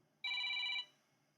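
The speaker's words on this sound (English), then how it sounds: "Oh, hello, I'm getting a phone call." An incoming call makes a telephone give a single bright electronic ring burst of about half a second, close and clear, fading quickly into quiet with no voices.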